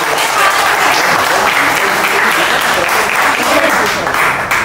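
A group of people in an office applauds loudly and close by, a dense, sustained burst of clapping hands that runs steadily from start to finish.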